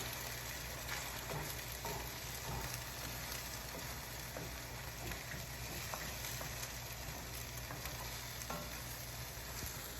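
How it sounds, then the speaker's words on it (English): Food frying in a pan while being stirred, a continuous soft sizzle with occasional light scrapes and taps, fairly quiet, with no talk. "And now I'm just gonna start stirring these around."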